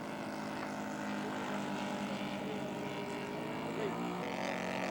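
Scale model Fokker D7 prototype aircraft flying by at an outdoor scale aircraft show, its propeller engine giving a continuous, steady drone that stays loud throughout with slight pitch shifts.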